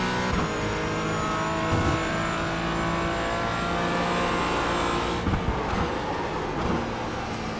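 Porsche Cayman GT4 in the iRacing simulator at Sebring, engine at full power with a continuous loud, steady drone and a brief dip in pitch and level near the end as the car shifts or brakes.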